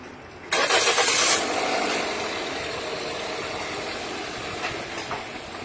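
A car engine, in a car with an automatic transmission that jerks rhythmically, cranks and catches with a loud burst, then settles into a steady idle that runs to the end with no talking.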